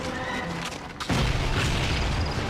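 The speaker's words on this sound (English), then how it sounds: "Carlisle, use your sticky bombs on that Panzer" A sticky bomb goes off against a Panzer tank in the Call of Duty: Finest Hour war game, a single loud deep boom that bursts and then rumbles on with dense battle noise.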